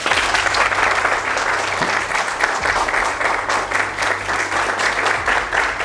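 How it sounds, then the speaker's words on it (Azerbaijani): An audience claps together in sustained, dense applause, loud and close, with a low hum running underneath. "Bir dənə əl çalaq."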